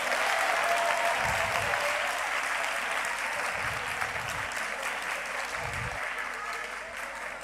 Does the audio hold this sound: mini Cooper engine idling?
no